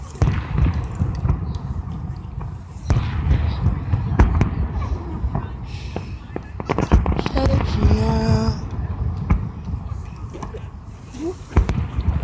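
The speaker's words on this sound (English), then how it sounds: "Just in case nobody got to see the fireworks, I'm putting these up here for you guys to enjoy." Backyard fireworks pop and boom in scattered bursts, with sharp cracks and a whistling rise near the middle, while people talk over the noise.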